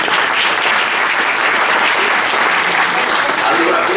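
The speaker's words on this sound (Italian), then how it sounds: "Adesso fate l'applauso." Audience at a talk breaking into applause, a loud, dense and continuous wash of clapping that fills the whole stretch without letting up.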